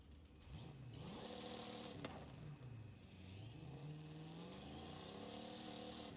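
A Dodge Charger R/T engine in Forza Horizon 5 revs up and down in rising and falling sweeps to about 6,800 RPM, with a synthetic, game-like tone and no voices.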